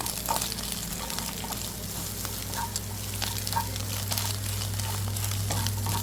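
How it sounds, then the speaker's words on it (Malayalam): Steady frying sizzle of egg and coconut in a pan with scattered crackles and light stirring scrapes, close by and continuous throughout. "മുട്ട തേങ്ങ എല്ലാം കൂടെ നമ്മളൊന്ന് വറുത്തിട്ട് അതിലേക്ക് മിക്സ് ആക്കി കൊടുക്കണം"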